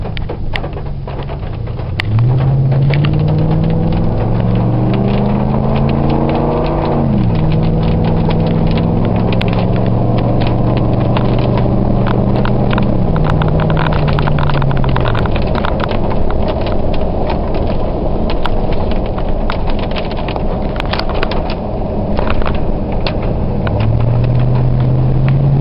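A 2004 Ford F-150 fitted with a Thrush muffler cruises at about 45 mph with the back window closed. A loud, steady exhaust drone fills the cab, and its tones climb and reset as the truck accelerates and shifts.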